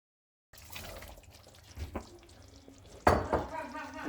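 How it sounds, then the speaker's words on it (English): Prawn chutney with tomato cooking in a pot, a soft low bubbling and sizzle with occasional stirring scrapes and a louder clatter near the end, close and fairly quiet. "the prawn sauce, prawn chutney is cooking very nicely"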